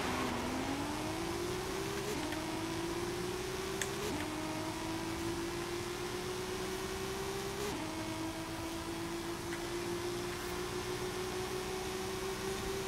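A Nissan Skyline GT-R R34 engine accelerates in a Forza Horizon drag race, its droning note climbing steadily in pitch and dropping briefly at each gear shift, several times in a row, faint and smooth throughout.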